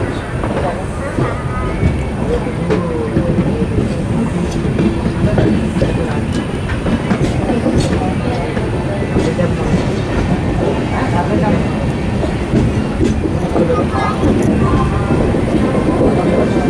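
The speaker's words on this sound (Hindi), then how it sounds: "वहां से डिपार्चर होता है नागपुर जंक्शन तक की अपनी आगे की जर्नी के लिए इस अमृत भारत" Amrit Bharat Express train on the Raipur to Nagpur route rolling steadily over the rails, with a continuous loud rumble and faint clickety-clack throughout, and voices in the background.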